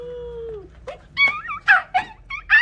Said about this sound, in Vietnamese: Chó sau kìa, em biết chó sau kìa, thấy chưa?